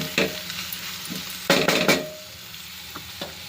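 Chopped vegetables fry in a kadai for veg pulao, a low sizzle broken by clustered spatula scrapes and stirring strokes, loudest in a burst midway, then quieter taps.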